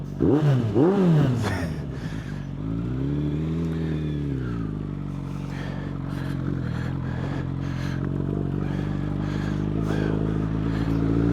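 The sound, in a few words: Suzuki Bandit 1200N motorcycle engine revving under throttle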